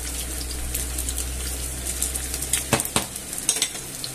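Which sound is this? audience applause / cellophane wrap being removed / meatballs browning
meatballs browning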